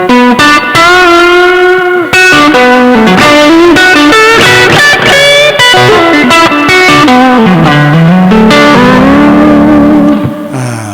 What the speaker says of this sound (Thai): อันนี้เป็นเสียงคลันนะครับ ใส่เสียงแตกนิดเดียว